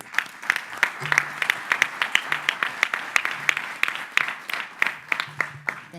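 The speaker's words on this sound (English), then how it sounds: "Let's give them an applause." An audience claps for a group after their presentation, a lively burst of many hands with sharp, uneven claps that stay fairly close and steady throughout.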